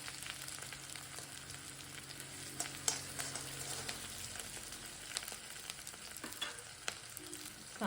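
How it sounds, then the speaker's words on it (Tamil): Onions sizzle quietly in a pan for sambar, a constant hiss broken by occasional spatula scrapes and stirs, close but low in level. "வெங்காயம் வதங்கட்டும்"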